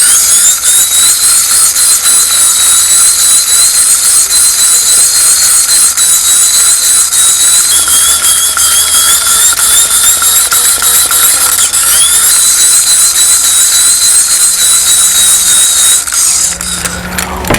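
A small DC motor driven as a generator spins at high speed with a steady, loud mechanical whine and rattling gear-like buzz that holds constant before slowing slightly at the end.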